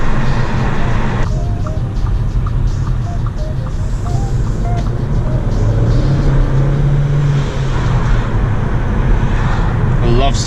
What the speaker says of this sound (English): Loves to spin its tyres, this car